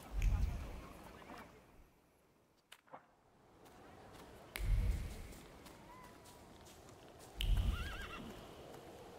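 A horse whinnies in the video game The Thaumaturge, three low snorting, neighing bursts a few seconds apart with faint clip-clop and ambient game sound between them.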